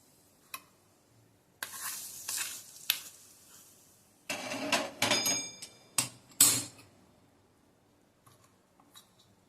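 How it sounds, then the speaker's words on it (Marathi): Hot oil tempering sizzles as it is poured over cabbage, followed by spoon stirring and scraping against a bowl, in short bursts with quiet gaps. "आता ही जी फोडणी आपण केली ही या कोबीवर आपण घालणार आहोत"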